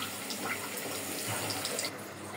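Water pours in a steady splashing stream into a pot of taro stem dal, close and continuous, with a bubbling, trickling texture throughout.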